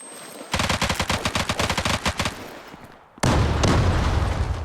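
Gunfire in the Zula mobile shooter: a rapid burst of about fifteen close, crisp automatic shots, a short lull, then a louder dense roar of continuous firing and explosions, with no talking.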